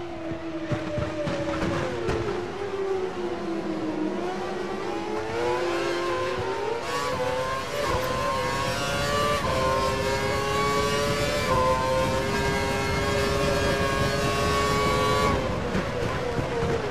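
A Formula 1 car's engine screams at full revs in F1 2012 at the Hockenheim German Grand Prix. It climbs and shifts through gears in a continuous, loud, close drone with a race engineer's voice faintly underneath.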